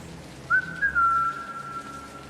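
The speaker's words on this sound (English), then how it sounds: "when from the darkness I hear a whistle" A single sustained whistle sounds in the darkness, one clear steady tone of about a second and a half over a low hum, moderately loud and alone.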